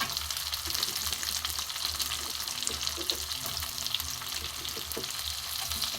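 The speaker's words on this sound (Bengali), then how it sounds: "এখানে পেঁয়াজ কুচি আছে, দিয়ে দেবো।" Chopped onion sizzling with garlic in a pan, a soft, steady frying crackle that carries on alone without a break.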